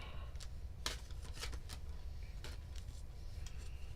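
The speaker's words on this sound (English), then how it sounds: "Cleansing shuffle for everybody else in the world there." Tarot cards are shuffled by hand in short, crisp riffling bursts, a handful of quick flutters spaced irregularly over a quiet, soft background.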